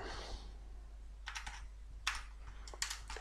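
Computer keyboard being typed on while writing code, a few quick bursts of close, crisp key clicks separated by short pauses, with no talking.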